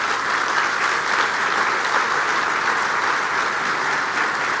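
Sustained applause from an audience for government ministers at a political event, steady dense clapping throughout, moderately loud and even, with no speech over it.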